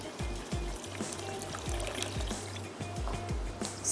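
Water poured into a cooking pot for a Bihari pasanday dish gives a soft trickling, gurgling stream with repeated splashy pulses, close and fairly quiet, with no one talking.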